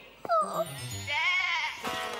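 A cartoon sheep bleats in a wavering, nasal voice, preceded by a short tumbling sound effect and followed by a faint tap, close and clear, with no speech.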